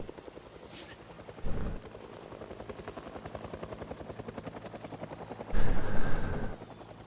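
Helicopter in a zombie survival video game, a rapid rotor chop pulsing steadily and fairly close, with two louder bursts of gunfire-like noise cutting in.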